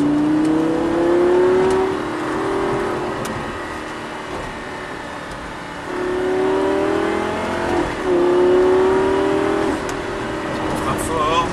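A Lamborghini LP 560 engine drones through a corner, its pitch holding steady, dipping, then climbing again as the throttle reopens, with someone talking over the cabin noise.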